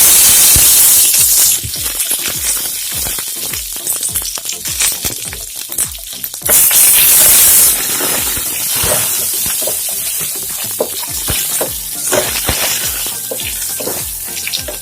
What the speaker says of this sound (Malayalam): കടുക് ഒന്ന് പൊട്ടിക്കഴിഞ്ഞാൽ അതിലേക്ക് മുളകിട്ട് കൊടുക്കുക. അതുപോലെ കറിവേപ്പില.